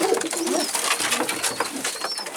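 A large pigeon coos in soft, repeated rolling calls, close by, with other faint bird chirps in the background and no talking.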